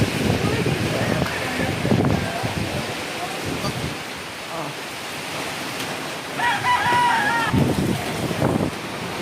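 Chickens cluck and a rooster crows at a home battered by typhoon rain and wind. The bird calls come in short bursts, with a clearer crow near the end, over steady storm noise and rushing wind.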